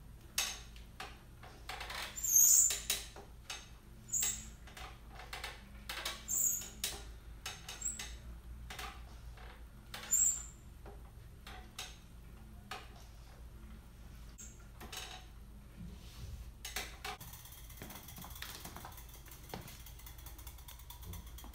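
A hand-cranked generator charging 12-volt batteries turns slowly, giving a steady run of quiet mechanical clicks and ratcheting ticks over a low hum, with a few louder clacks.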